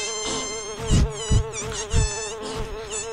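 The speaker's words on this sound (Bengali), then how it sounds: "মাছিটা আবার কোথা থেকে এসে জুটলো?" A cartoon housefly buzzes close by in a whiny, wavering drone that rises and falls in pitch, with a few soft thumps underneath.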